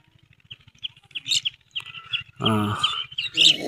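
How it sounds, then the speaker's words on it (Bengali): Small birds chirping in a village field beside a garlic plot, repeated short high tweets close by, with a louder burst of calls near the end over a faint low rumble. "দেখছেন পাখির কিচির মিচির একটা শব্দ শোনা যায়"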